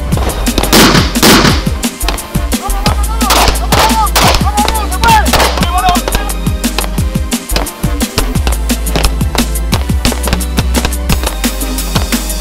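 Live-ammunition gunfire and explosions during bodyguard training, loud repeated sharp cracks in irregular bursts, some rapid, others spaced, over a constant low rumble, with brief voices mixed in.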